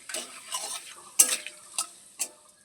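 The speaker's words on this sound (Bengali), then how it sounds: "দুটো তেজপাতা একটা কাঁচা লং শুকনো লঙ্কা দুটো লং আর এলাচ দুটো আর গোলমরিচ দুটো ভেজে নেব" Bay leaves, cloves, dried chillies, cardamom and peppercorns frying in hot oil, with a soft crackle and a few sharp stirring clicks of a spoon against the pan at irregular intervals, close by.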